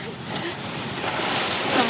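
Ocean waves roll behind a sailboat out at sea, a steady broad rush of water and wind noise that swells slightly toward the end.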